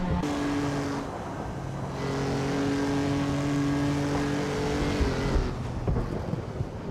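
Vintage race cars accelerate hard in a race on a tight-cornered track, a loud sustained engine roar with rising and shifting pitch, several cars close by, ending in a few sharp knocks.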